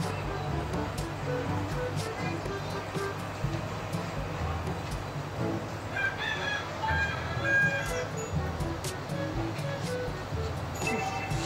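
A rooster crowing and clucking inside the mobile game Mobile Legends, repeated calls over a busy bed of game sounds.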